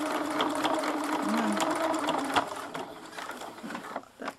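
Sewing machine with a quarter inch foot stitching slowly through thick fabric for dollhouse miniature sleeping bags, a steady close mechanical whir with faint clicks, fading to quieter handling noises near the end.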